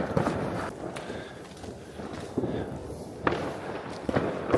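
New Year's Eve fireworks going off in the streets in Germany: scattered dull bangs and pops at irregular intervals, mid-distance, over a noisy outdoor background.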